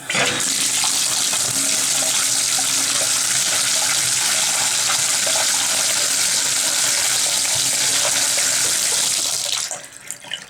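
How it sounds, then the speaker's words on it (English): Steady rushing stream of very hot water pouring into a drain, loud and continuous for about ten seconds, then trailing off. "and then add really, really hot water."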